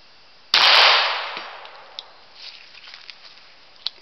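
A single sharp crack from a Savage Model 101 .22 caliber pistol fired at a target, fairly close, decaying quickly into quiet with a few faint ticks afterward.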